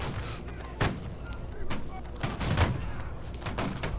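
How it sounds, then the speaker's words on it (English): Cannonballs landing close by in Holdfast: Nations at War, several sharp booming impacts spaced irregularly over a few seconds amid battle noise, with a voice speaking faintly underneath. "Oh, their cannonballs are getting pretty close to me."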